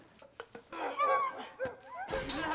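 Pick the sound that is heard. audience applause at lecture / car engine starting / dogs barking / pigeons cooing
dogs barking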